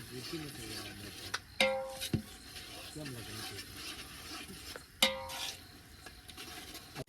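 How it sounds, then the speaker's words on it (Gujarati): Roasted eggplant olo is stirred and mixed with green chillies at an outdoor party, giving scraping, clinking strokes with a couple of sharper knocks and a soft frying patter, with faint voices in the background. "અમારે જો લીલા મરચા ને એવું નાખી દીધું છે નિલેશભાઈ અને બધું મિક્સ કરી રહ્યા છે"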